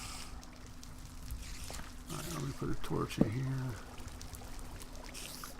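Flowing water in the Minecraft modpack Vanilla Overhauled, a steady low pouring and trickling wash running throughout, with someone speaking over it partway through.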